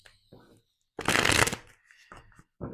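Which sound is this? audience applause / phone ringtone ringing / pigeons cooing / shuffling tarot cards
shuffling tarot cards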